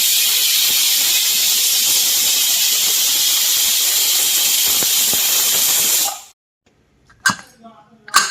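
A pressure cooker holding bottle gourd tamarind curry hisses loudly and steadily on the stove for about six seconds, then cuts off into silence followed by a few brief clatters.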